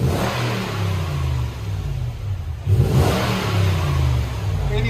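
A 2008 Toyota 4Runner with a 4.7L V8 and a 14-inch Magnaflow exhaust idles, then is blipped into a short, moderate rev near the exhaust before settling back to a low, steady rumble.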